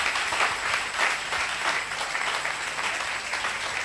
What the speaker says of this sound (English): A clap offering unto the Most High God